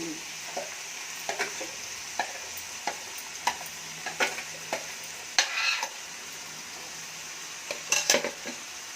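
Vegetables for a vegetable kurma, peas among them, stirred in a pan, with a spoon scraping and knocking in irregular strokes over a faint sizzle, close and moderately quiet, with no voices.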